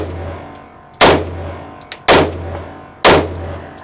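Three loud, sharp pistol shots fired one-handed from a Sig Sauer P211 or Kimber 2K11 Comp crack out about a second apart, each followed by a brief ringing decay over a low background hum.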